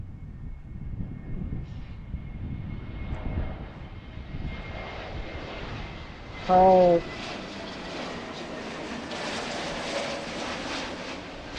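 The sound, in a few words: airliner engine near Philadelphia airport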